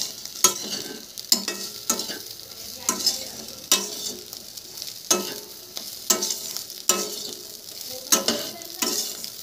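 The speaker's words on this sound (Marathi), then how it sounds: "आता मिक्स करूया." Vegetable bhaji of wild fruit (Ranmeva, vaghetichi) being stirred in a pan after salt is added, rhythmic scraping strokes about once a second over a soft sizzle, close and clear.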